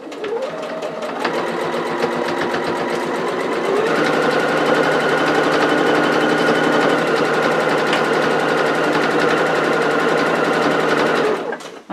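A domestic sewing machine stitching a tote bag, a steady rapid mechanical whirr close by that starts, briefly pauses, then runs continuously at an even pace before stopping at the end; no talking.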